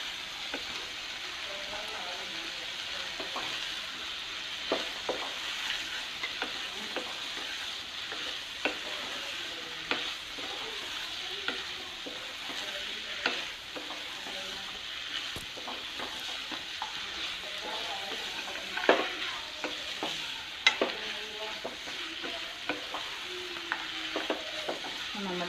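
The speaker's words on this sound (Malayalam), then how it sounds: "ഇതിലേക്ക് നമുക്ക് വറുത്ത് വെച്ചിരിക്കുന്ന ചിക്കൻ ചേർത്ത് വെക്കാം" Fried chicken pieces tossed and stir-fried in a pan for chicken kondattam, a soft steady sizzle broken by frequent spatula clinks and scrapes, with a faint voice now and then.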